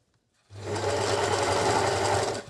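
Beckmann sewing machine running a straight stitch through thick fleece, a close, steady mechanical whir that starts after a brief silence and runs continuously for about two seconds.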